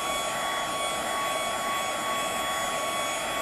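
A heat tool for melting embossing powder on a card blows with a steady, close whirring hiss and a constant tonal whine, running continuously without pause.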